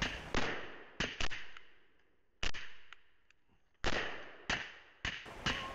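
Sharp gunshots crack on a night vision shooting course, about nine irregular reports, some in quick pairs, each ringing out with a decaying tail between quiet gaps.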